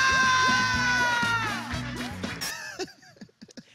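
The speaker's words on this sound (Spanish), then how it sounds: "¡El aplauso para mi chiste!" A stand-up comedy crowd cheers, whoops and yells loudly after a joke, with high shrill voices like children's among them, then the noise breaks off abruptly into scattered fading shouts.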